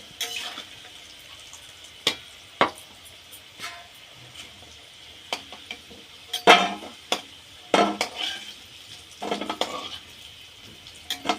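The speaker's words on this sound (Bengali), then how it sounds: "আলু খুব সুন্দর ভাজা হয়ে গিয়েছে এবার আলুটা তুলে নেব" Fried potatoes lifted from a pan with a metal utensil, a series of sharp clinks and scrapes against the pan at irregular intervals, close and fairly quiet, with no talking.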